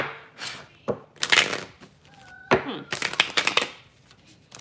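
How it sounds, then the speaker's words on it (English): A new deck of tarot cards being shuffled by hand: repeated crisp riffling bursts and soft slaps of cards, close and fairly loud, with short pauses between shuffles and no speech. "I'm trying to shuffle them real good before we start"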